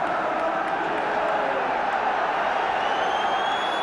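A 1976–77 football crowd at White Hart Lane, Tottenham, about 34,000 at a Spurs against Sunderland relegation match, a steady, broad murmur and roar filling the ground throughout.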